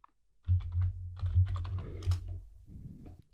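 Someone types on a computer keyboard, a quick run of close, crisp key clicks for about two seconds, preceded and followed by quiet.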